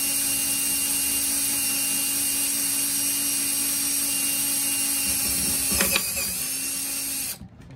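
A power drill bores into a metal lock hasp with a steady, high whining motor hum under light pressure, then a brief burst of grinding and rattling as the bit breaks through before the drill stops abruptly.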